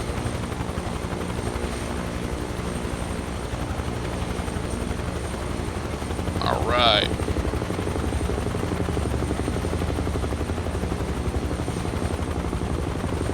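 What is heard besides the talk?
helicopter engine in video game Microsoft Flight Simulator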